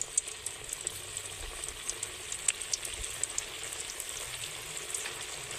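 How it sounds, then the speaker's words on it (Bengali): Potato and Maggi snacks frying in oil over low heat, a steady close sizzle with small popping crackles scattered evenly across the whole stretch, no voices. "হালকা আঁচে এগুলো ভাজা হতে থাক"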